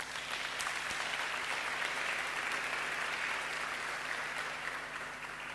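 Church congregation applauding at a Sunday service, a sustained wash of many hands clapping at moderate distance, steady throughout with no speech over it.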